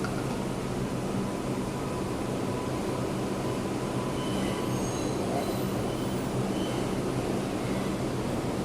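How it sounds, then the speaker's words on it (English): A New York City Bronx-bound 5 express subway train running, heard from inside: a continuous loud rumble of wheels on track with faint high squeals and hiss, steady throughout with no talking. "This is a Bronx-bound 5 express train."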